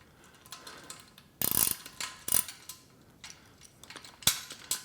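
Ratchet wrench with a 1/2 inch socket turning a 5/16 bolt during assembly of a Body Solid EXM3000 home gym, heard as bursts of close, dry clicking in short runs with pauses between strokes.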